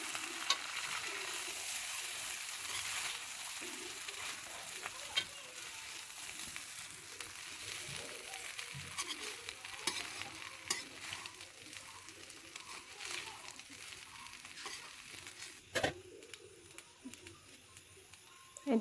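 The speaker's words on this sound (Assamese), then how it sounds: "লৰাই দিব ভালকৈ, মিক্স কৰি ল'ব।" Chicken biryani is stirred and mixed in a frying pan, with a soft steady sizzle of frying underneath and scraping, shuffling strokes of the spoon through the rice, low and close, ending in a few sharper knocks.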